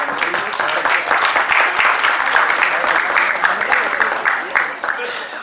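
Loud, close applause from an audience at the closing session of a Marwari youth cultural gathering, a thick wash of clapping with some distinct claps standing out, fading slightly at the end.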